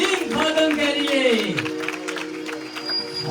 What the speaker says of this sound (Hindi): जोरदार तालियां उस खुदा के अजीम खादम के लिए।